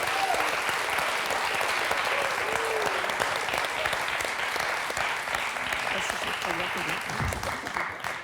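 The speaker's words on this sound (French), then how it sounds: "Personne vous applaudit, moi je vous applaudis" A quiz show studio audience claps continuously, a thick, steady roar of applause lasting the whole stretch while voices murmur faintly underneath.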